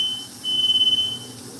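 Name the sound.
smoke alarm beeping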